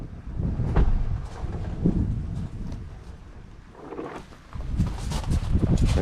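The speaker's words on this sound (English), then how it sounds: "It's so windy here." Gusty wind at a riverside campsite near the Arkansas River in Colorado, buffeting the microphone in rumbling surges with a calmer lull midway and a strong sustained blast at the end.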